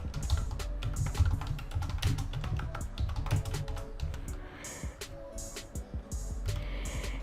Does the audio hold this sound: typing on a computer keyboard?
yes